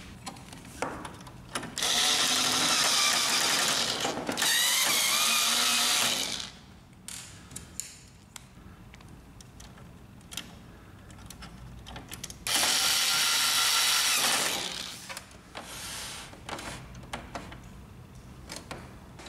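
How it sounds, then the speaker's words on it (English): Screws are driven back in to fasten a metal part on a Samsung ML3310 laser printer, with two sustained, loud, whirring-ratcheting bursts of a powered screwdriver separated by quiet handling noises. "Reinstall the metal part with the two screws."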